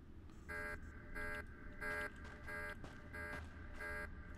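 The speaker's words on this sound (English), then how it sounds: "you gotta press the alarm button" An alarm in Star Wars: The Old Republic blares in repeated, evenly spaced electronic buzzing pulses, about seven in a row, loud over a low rumbling game background.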